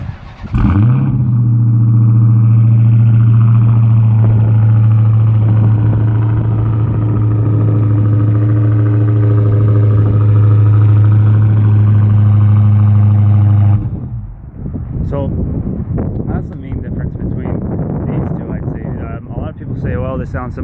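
A loud, close Dodge Charger Hellcat engine holds a steady high-revving drone for about fourteen seconds, then drops into a rougher, choppier rumble.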